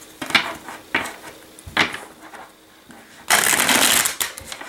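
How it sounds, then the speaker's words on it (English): Tarot cards being shuffled up close: a few short, soft riffles followed by a longer, louder burst of rapid card flicking near the end. "I'm just going to shuffle until I feel an energy shift or I feel that the cards are ready to be read."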